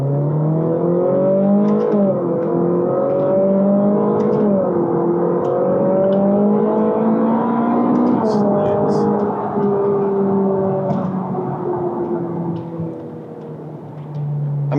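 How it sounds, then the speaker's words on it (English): A 2014 Ferrari 458 revving and pulling through its gears on an open road, a loud steady engine drone whose pitch climbs, drops at shifts and climbs again, heard from inside the car. "I'm in 4th, I'm down into 3, my foot's back on the gas"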